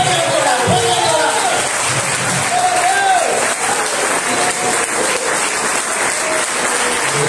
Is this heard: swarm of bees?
no